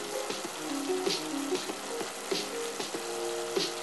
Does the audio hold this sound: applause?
no